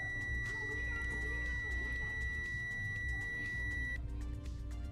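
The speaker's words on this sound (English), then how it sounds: "Beep on, beep off. It says zero is basically a short circuit" A multimeter on continuity test gives a steady high electronic beep that holds for about four seconds and then cuts off, set against a low background hum with faint clatter.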